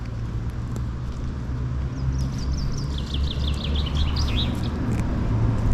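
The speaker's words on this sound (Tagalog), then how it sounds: "Naririnig nyo yung mga ibon?" A bird trills a quick run of high chirps in the distance over a steady low rumble of passing traffic.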